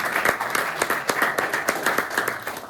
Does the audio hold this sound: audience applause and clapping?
yes